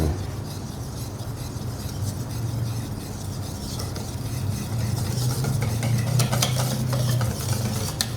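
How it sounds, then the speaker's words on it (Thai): Mango shortcake batter with sifted flour and baking powder being mixed in a bowl: a continuous close-up churning and scraping that stays steady and grows slightly busier later on, with no speech. "จากนั้นคนผสมให้เข้ากัน"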